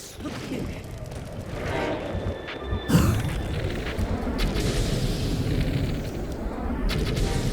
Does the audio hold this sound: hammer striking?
no